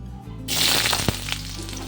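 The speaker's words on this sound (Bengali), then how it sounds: "প্রথমে বেশ খানিকটা সর্ষের তেল গরম করে নিয়েছি তার মধ্যে দিয়েছি গোটা জিরে ফোড়ন" Whole cumin seeds hit hot mustard oil and break into a sudden loud, broad sizzle after a brief quiet moment, then crackle on with a few sharp pops.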